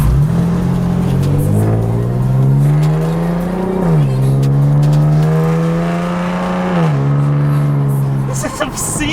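A loud car engine revs up close, its pitch climbing, dropping briefly, then rising again in sustained roaring pulls.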